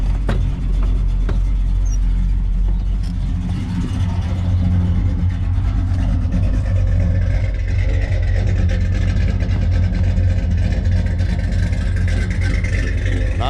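A 1966 Dodge Coronet with a Slant 6 engine and cheap parts-store mufflers, a steady deep exhaust rumble that revs and accelerates partway through, heard up close and continuous.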